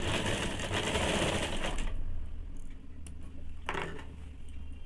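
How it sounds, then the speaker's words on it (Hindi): A sewing machine runs steadily for about two seconds while stitching a blouse hem, then stops, followed by a few light clicks and a short second burst of stitching. "पूरे में सिलाई चला देंगे, पूरे नीचे की तरफ"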